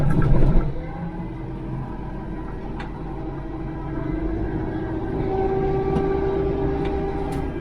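A tractor with a cab pulls a 7-foot Homestead Implements rotary cutter across a yard, giving a steady, loud mechanical drone with a rising whine partway through.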